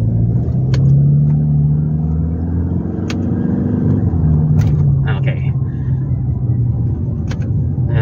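A 2024 Toyota Fortuner Q variant's engine rumbles and rises in revs as the driver works the paddle shifters, a steady low drone heard from inside the cabin with a few light clicks.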